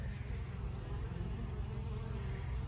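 Honey bees in a beehive troubled by chalk brood give off a steady, dense buzzing hum that holds evenly throughout, close by and with no talking.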